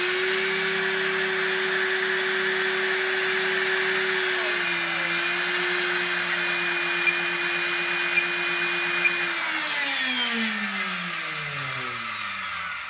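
An RC helicopter electric motor on a Castle ESC soft-starting into a steady high whine, holding a constant pitch before winding down, with the tone sliding lower as it spins down near the end.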